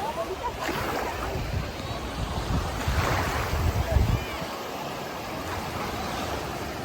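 Sea waves washing in at Alicante beach, a continuous rushing surf with gentle swells and wind buffeting the microphone, heard fairly softly, with faint voices in the background.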